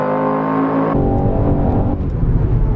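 Race car engine from a hillclimb racing video game at Goodwood, roaring loud and close with a shift in pitch around one second, then a sustained throttle growl toward the finish.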